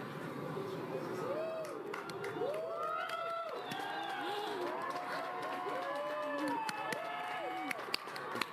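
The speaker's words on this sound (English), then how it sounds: "Everyone is cheering." A crowd of onlookers cheers and whoops at an annular solar eclipse in the USA, a steady wash of scattered shouts, whistles and excited voices, moderately distant, with people talking throughout.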